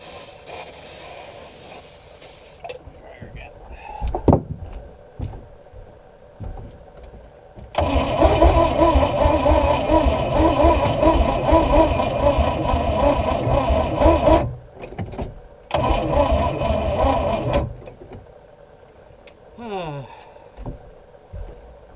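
An antique boat engine, abandoned for decades, cranks slowly with the starter for several seconds, goes quiet, then turns over again in two bursts, loud and close, with brief clanks in between.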